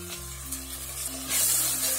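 Tomato dropped into onions frying in hot oil, a steady sizzle that swells into a louder, brighter hiss partway through, close up and alone.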